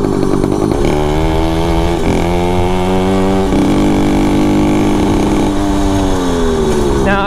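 A motorized bicycle engine runs close and loud, four-stroking with a rough, uneven buzzing note that rises and falls as the throttle changes.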